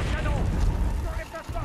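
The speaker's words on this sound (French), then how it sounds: "Le canon." A cannon fires in the video game Horizon Zero Dawn, giving a deep, rumbling boom that rolls on for a moment, with a voice talking over it.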